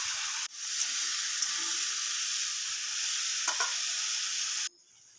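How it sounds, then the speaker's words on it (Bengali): Potatoes cut small and washed sizzle steadily in a wok, a loud continuous frying hiss with a few stirring scrapes, cutting off abruptly near the end. "এবারে কড়ার মধ্যে দিয়ে ভালোভাবে ভেজে নেব"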